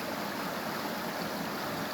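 River water runs steadily over stones in a backyard farm setting, a continuous close rushing and gurgling wash with no pauses and no voices.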